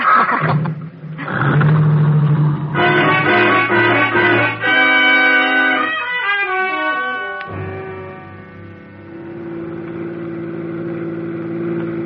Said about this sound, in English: As you speed Dan's convertible toward the city limits